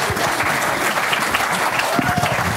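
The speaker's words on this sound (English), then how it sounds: "Please welcome, round of applause for Chris." A meetup audience claps steadily to welcome a speaker at a cloud computing tech talk in London, dense close applause throughout with faint voices underneath.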